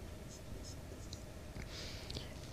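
Pen scratching on paper while a maths equation is written out, faint soft strokes set against a steady low background hum.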